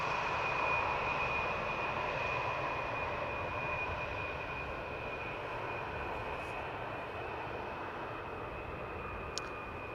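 A six-year-old Embraer 175 jet lands at Amsterdam Schiphol, its steady engine roar faint and distant with a thin high whine held throughout, fading slightly as it passes.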